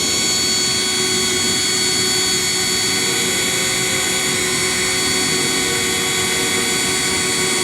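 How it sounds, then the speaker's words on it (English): A power drill bores holes into bamboo, giving a loud, steady whine that runs unbroken from start to finish with no pauses or talk. "So I drilled the holes inside of the bamboo."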